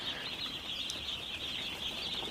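Paragon broiler chicks chirp in a dense, continuous high-pitched chorus, many small peeps overlapping at close range.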